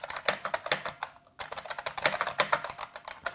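Fast, steady typing on an IBM Space Saver keyboard, with crisp, closely spaced key clacks and one brief pause midway, heard up close with no voices.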